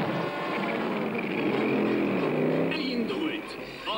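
High-powered boat race engines start up in a 1987 Tom and Jerry cartoon, a rising motor drone under a narrator's voice with splashy bursts near the end.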